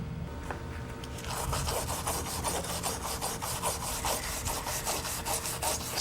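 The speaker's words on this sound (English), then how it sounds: "I've just cleaned both edges of the plates to be joined" Rasping strokes clean the edges of 0.060-inch 3003 aluminum plates before TIG welding, a steady series of rough filing or scrubbing passes, close and loud, repeating rhythmically for several seconds.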